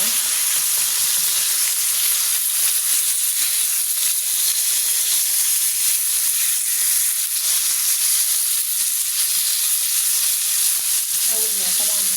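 Tilapia fish frying in hot oil, a dense, constant crackling sizzle close up and loud throughout, with scattered pops and no voices.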